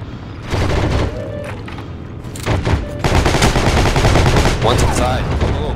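Rapid bursts of gunfire from the Heroes & Generals video game battle near a barn, with dense overlapping shots building into a sustained loud fusillade, mixed with some game chatter.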